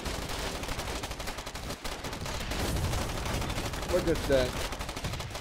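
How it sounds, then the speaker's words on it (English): Machine gun fire rattles in the war video game Foxhole during a naval battle, dense rapid bursts continuing throughout at moderate loudness while someone speaks briefly over it. "Oh, into machine gun fire."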